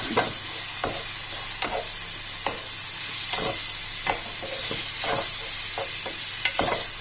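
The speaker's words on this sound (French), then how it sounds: "Pour info, je fais cuire à feu vif." Food fries over high heat in a pan with bouillon added, giving a loud, continuous sizzle close by, broken by repeated scraping stirs of a utensil against the pan.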